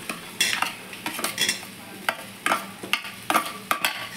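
A spoon stirs fried potatoes into sizzling spice paste in a pan for a Bengali cabbage and catla fish head dish, giving repeated scraping strokes over a steady frying hiss, close and loud with no talk.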